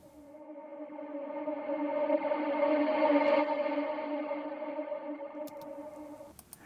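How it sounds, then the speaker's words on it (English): A vocal track with reverb applied, a sustained harmonic tone swelling and fading with a wide, washy tail, alone with no talk, and a few brief clicks near the end. "I took a piece of the vocal and put a reverb on it"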